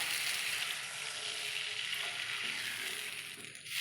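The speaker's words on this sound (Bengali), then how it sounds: "এবার আমি দিয়ে দেব জল" Water poured into a hot pan of spice-fried potatoes for a papaya and lentil fritter curry, giving a loud, steady hiss and sizzle that carries on without a break, with no voices.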